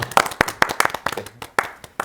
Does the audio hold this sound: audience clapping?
yes